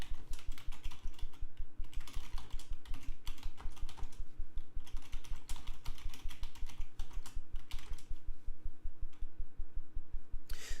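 Fast, steady typing on a computer keyboard as an essay is written, with dense rapid clicks running close and continuously for the whole stretch, alone with no talk.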